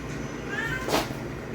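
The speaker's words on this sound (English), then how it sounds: "My cat's very annoying. She's literally in the room for like 1 minute." A single house cat meows once, a short rising cry close to the microphone, over a steady low room hum.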